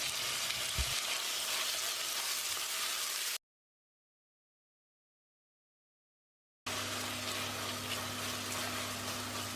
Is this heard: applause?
no